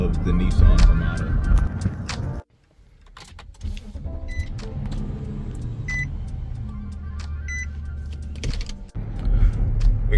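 An Infiniti Q56 SUV, the luxury counterpart of the Nissan Armada, driving on a road with steady low engine and road rumble, a brief quieter dip partway through, and a few faint beeps and cabin sounds.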